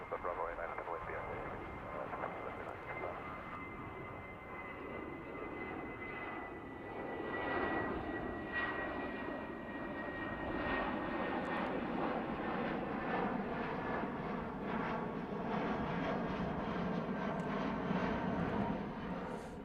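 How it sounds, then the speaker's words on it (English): A British Airways Boeing 777-200 jet on its takeoff roll at Heathrow Airport, its engine roar building and swelling from faint to louder, with radio chatter and voices heard in the mix. "So the British Airways 777-200 on the roll now"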